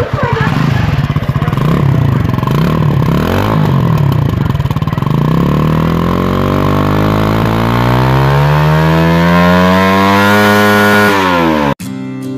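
A Roadmaster 165cc motorcycle engine starts and runs loud and close, with a rough, chainsaw-like idle that climbs into a steady, rising rev of stacked harmonics before cutting off abruptly at the end.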